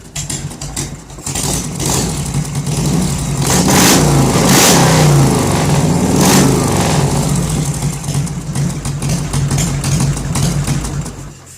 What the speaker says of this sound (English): that's my favorite part about riding a Harley, is the sound